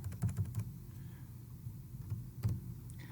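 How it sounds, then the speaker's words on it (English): Typing on a computer keyboard to enter a square root into a Desmos calculator: a few quiet clusters of key clicks with pauses between, close and alone. "we type that into our Desmos calculator"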